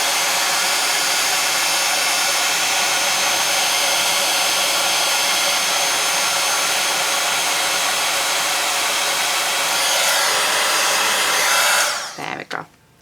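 A heat tool blows steadily and loudly for about twelve seconds, melting embossing powder on a handmade card from the back, then cuts off abruptly with a couple of brief clicks.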